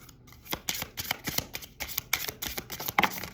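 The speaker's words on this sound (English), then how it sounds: "I'm going to shuffle one more time." Quick papery riffles and flicks of tarot cards being shuffled for a reading, close and soft, in short bursts.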